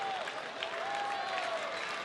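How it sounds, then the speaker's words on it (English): A thinned-out baseball stadium crowd gives a standing ovation late in a night game between Houston and Texas, with steady, distant applause and a low crowd murmur running the whole time. "giving the best they can of a standing ovation"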